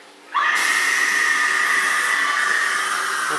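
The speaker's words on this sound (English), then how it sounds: "the coffin here will open up and a really cool corpse will come out and yell at you" Haunted coffin prop at a ghost-themed golf attraction bursts open with a loud, sustained hissing blast and a shrill yelling tone from the corpse figure, starting abruptly after a quiet moment and holding steady.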